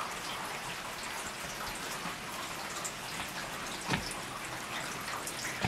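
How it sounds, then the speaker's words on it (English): Rain falling outside a porch at 4 a.m., a soft steady patter with occasional louder drips landing nearby, no voices. "But it's raining out here."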